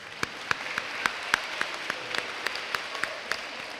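Sparse, rhythmic clapping at a Black History celebration, individual claps spaced about a quarter second apart, moderately close and fairly quiet, no other crowd noise around them.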